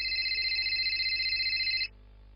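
An electronic telephone ringtone trills steadily, loud and close, for nearly two seconds and then stops, leaving a quiet room.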